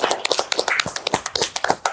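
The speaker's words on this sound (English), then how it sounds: "Golf clap." Soft, polite hand clapping from a small audience during an interview with Robert F. Kennedy Jr., quick light pats overlapping in an uneven patter, close and moderately loud, with no talk over it.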